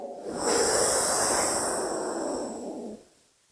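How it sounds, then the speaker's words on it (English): A single long, steady breath drawn in through the nose, close and fairly loud, with broadband airy hiss lasting about three seconds before fading out, no talking. "Breathe in through your nose."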